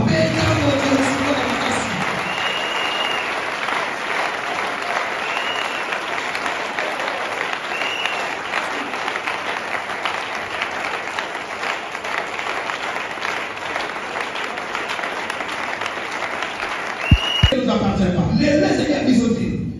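A church congregation applauds and acclaims the king during a pastor's teaching, with loud, dense clapping and crowd noise that runs steadily for most of the stretch, then stops abruptly after a brief thump.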